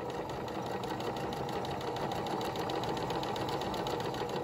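A sewing machine runs continuously as it sews a gathered stitch through fabric, a fast, even mechanical whir with rapid needle ticking, close and steady, with no talking.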